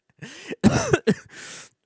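A person clears their throat in a few short, harsh bursts, close to the mic, ending with a breathy exhale.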